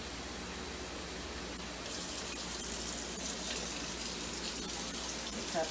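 Water from a kitchen tap runs into a cooking pot, starting as a soft hiss and then becoming a louder, steady gushing rush that continues to the end.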